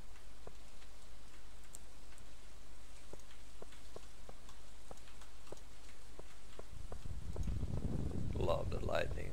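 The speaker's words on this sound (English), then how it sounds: "it's a rainy day" Soft, steady rain patter in the Stardew Valley farming game, with scattered ticking drops throughout and a louder rumbling swell near the end.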